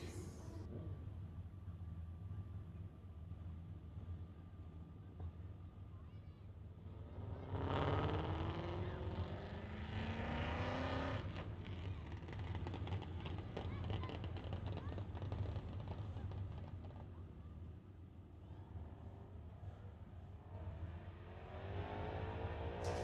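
A 1992 Mustang running nitrous makes a street-legal drag racing pass, a loud engine roar that surges and climbs through the gears. A track announcer talks over it, with steady crowd and venue noise underneath.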